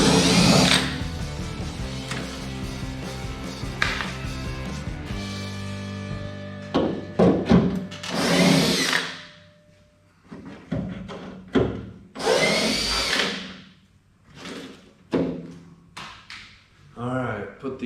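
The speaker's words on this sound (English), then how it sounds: "Alright, gotta get my driver and get those off there." Power driver backing screws out of Camaro Z28 parts, a few short whirring bursts between stretches of nearby talk and handling noise.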